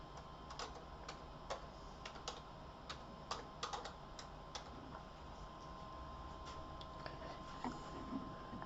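A PC name typed on a computer keyboard in an office-like room: irregular sharp key clicks scattered across several seconds over a steady hum, with no speech.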